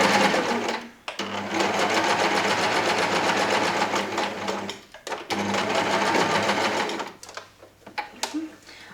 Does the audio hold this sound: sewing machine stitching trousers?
yes